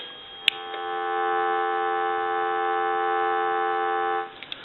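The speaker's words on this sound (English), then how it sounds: "Give you some dial tone." A steady dial tone from a Western Electric 2500 touch-tone telephone hums continuously for about four seconds at moderate level, opened and closed by small clicks from the handset.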